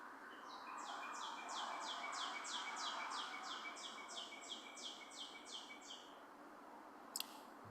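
A bird sings a quick series of repeated chirping notes over a low, steady background hum, then a brief sharp click near the end.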